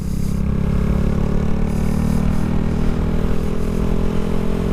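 A Honda Grom motorcycle engine runs steadily and close up throughout, a continuous low mechanical drone with a slight clatter, heard on its own without any voices.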